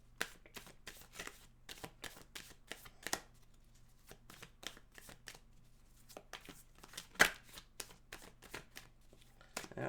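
Tarot cards being shuffled in a quiet room, a long run of crisp riffling bursts and soft slaps that repeat steadily for about ten seconds, with one sharper snap near the end.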